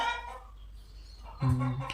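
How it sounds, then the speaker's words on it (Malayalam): A chicken outside a house gives a loud, drawn-out call near the end after a quieter stretch of faint fowl sounds, with no talking. "പുറത്ത് കോഴി നല്ലോണം കൊച്ചിടുന്നുണ്ടാണ്."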